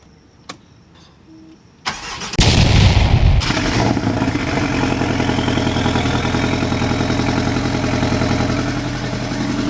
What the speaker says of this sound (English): Here we go, the cold start of the Porsche.